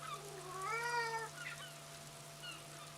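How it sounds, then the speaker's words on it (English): Hugo, a Revacholian cat in the Disco Elysium video game, gives a faint, drawn-out meow in the background, followed by softer mewing over a low steady hum. "Hugo is a Revacholian cat in the background."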